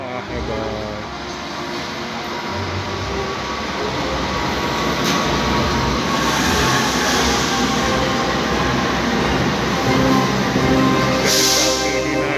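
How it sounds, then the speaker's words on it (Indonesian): An executive-class service train passes Wates station, its wheels and carriages producing a loud, sustained rolling roar with rail clatter and faint squeal, heard close from the platform. "dinas melintasi stasiun Wates."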